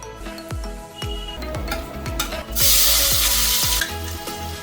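Cauliflower is dropped into hot oil, first a run of knocks and clunks, then a sudden loud burst of sizzling that fades back down near the end, no one speaking.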